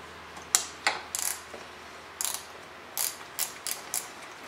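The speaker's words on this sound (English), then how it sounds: "a simple set of ratcheting wrenches will really come in handy for this kind of stuff" Ratcheting wrench clicking while working on a John Deere 455 lawn tractor, a close series of short sharp ratchet bursts in irregular groups against quiet background.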